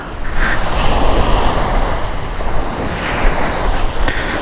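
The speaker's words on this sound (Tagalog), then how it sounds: "Ganda ngayon, tahimik ng dagat." Calm sea surf washing onto a shore by a fish sanctuary in Barangay Agsalin, a steady broad wash with soft swells and some wind rumble, fairly loud and continuous with no talk.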